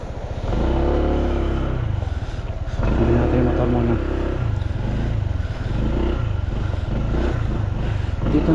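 A motorcycle engine idles and runs steadily nearby with a low, throbbing rumble that continues throughout, while a person speaks briefly over it.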